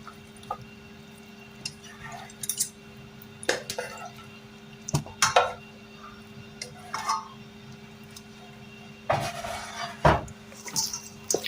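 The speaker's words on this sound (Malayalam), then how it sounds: "നമുക്ക് ചിക്കനിൽ നന്നായിട്ട് മസാല പുരട്ടി കൊടുക്കാം." Masala being mixed and rubbed into raw chicken pieces for frying: soft wet squishing and sticky slaps in irregular bursts, with occasional clinks against a bowl, close and moderately quiet with no talking.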